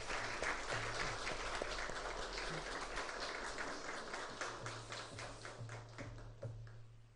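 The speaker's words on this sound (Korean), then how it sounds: "우리 성가대 우리 격려의 박수 하겠습니다." A church congregation applauds the choir during a Sunday service. The clapping is steady and sustained, moderately distant in a reverberant room, with a low hum underneath.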